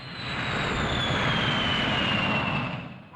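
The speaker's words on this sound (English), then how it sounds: "the expanding gas roars from the jet pipe with tremendous force. This is the turbine jet" A turbojet engine roars loudly and steadily, a broad rushing blast with a high whine drifting slowly downward in pitch, then easing off slightly at the end, with no voices.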